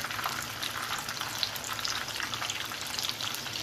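Chicken cutlets fry steadily in a pan with oil, giving a dense, continuous crackling sizzle that stays even and close throughout with no voices.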